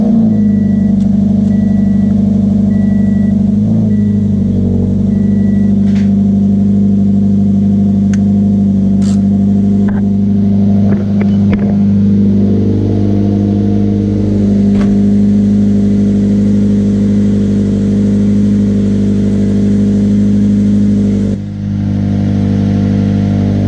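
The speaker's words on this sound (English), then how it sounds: "Take it out on a drive right now." Car fitted with a Rocket Bunny v1 widebody kit on a test drive after a tire-rubbing fix, its engine droning loudly and steadily close up, with a few revs and shifts.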